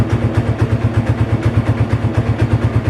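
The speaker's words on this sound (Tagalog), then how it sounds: "Ewan ko kung naririnig nyo ako kasi maingay yung motor" A Yamaha motorcycle engine runs close by at idle with a fast, regular chugging pulse. The throb is loud and steady, and no one talks over it.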